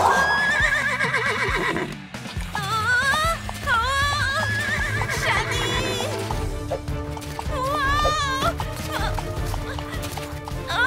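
A horse neighs and whinnies repeatedly, loud and close, with rising-falling squealing calls and some hoof clatter in between.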